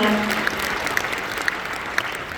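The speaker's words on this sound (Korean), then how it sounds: "소중한 경험과 인사이트를 나눠주신 고란 대표님께 여러분 다시 한번 큰 박수 부탁드리도록 하겠습니다." A conference audience claps for a speaker who has just finished a talk on the crypto market, a steady even patter of many hands filling the room with no voices over it.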